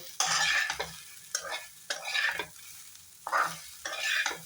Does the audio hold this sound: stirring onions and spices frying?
yes